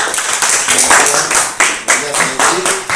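Classroom applause for a student presentation in a web programming lesson, quick rhythmic handclapping from a group continuing across three seconds, with a voice audible underneath.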